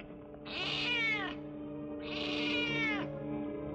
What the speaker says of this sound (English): Cat gives me the willies.